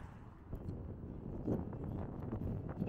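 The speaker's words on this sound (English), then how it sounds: "It's a bit breezy." Wind buffeting a microphone outdoors on a street in Blackpool, a steady low rumble with gusty swells throughout and no talking.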